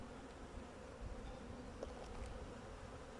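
A steady, dense hum of many honeybees buzzing close by at a hive in winter, continuous and even with no voices.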